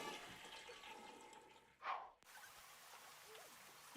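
A single toilet flush in The Sims 2 life-simulation game, a brief rushing whoosh of water that swells and cuts off, heard faintly over quiet background sound.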